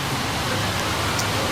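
Steady rain falls outdoors, a dense continuous hiss with no pauses, fairly loud and close.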